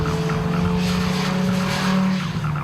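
An original BMW M3 with a 2.3-litre four-cylinder engine and five-speed manual gearbox, its engine holding a steady loud drone with a faint rise in pitch partway through, heard close with no voices.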